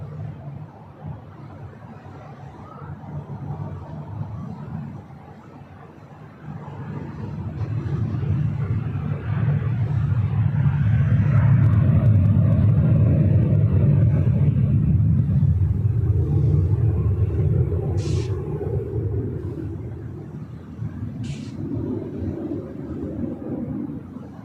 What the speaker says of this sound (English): WestJet 737-800 heading to Winnipeg, flight 1315. Now rolling down